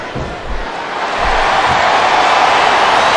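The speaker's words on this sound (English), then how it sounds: "listen to that chant, Taz" Arena crowd noise from the wrestling game SmackDown vs Raw 2007 swells into a loud, sustained roar that builds and holds steady, with a few dull thumps early on beneath it.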